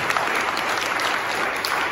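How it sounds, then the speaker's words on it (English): A loud round of audience applause for the top three finalists at a Pitch X startup pitch event, with dense sustained clapping and light crowd noise filling the room throughout. "Can we have one more big, super loud round of applause for the top 3 finalists tonight?"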